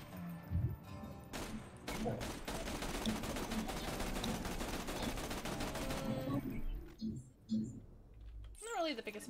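A pistol fires in Borderlands 2 as a fast, crackling string of shots lasting several seconds, faint and fairly close. Scattered clicks and a voice talking break in at the start and near the end.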